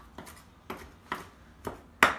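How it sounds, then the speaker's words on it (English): A knife chops through fresh cilantro, stems included, on a cutting board, landing five distinct strokes at a steady pace, the last one louder, with no talking. "I'm going to cut off most of those stems. So we're just going to chop this up pretty coarsely"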